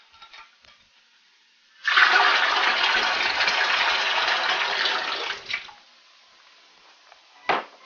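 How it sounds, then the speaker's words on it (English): A medication mixture of Fumidil B in warm water pours into a tank of sugar syrup for beehives, a steady splashing gush lasting a few seconds, close, then a faint trickle. "pour the medication mixture into the tank of sugar syrup"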